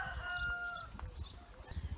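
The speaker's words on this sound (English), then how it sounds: "we've got loads of chickens here at the Ark Farm." Chickens on an open farm cluck and call in a few short, fairly faint bursts over a low outdoor background.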